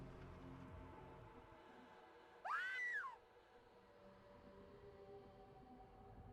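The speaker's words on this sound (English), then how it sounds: "I love that canned scream" A canned scream in a cutscene from Vampire: The Masquerade – Bloodlines, a single short rising-and-falling shriek lasting about half a second, sudden and loud against a quiet ambient background.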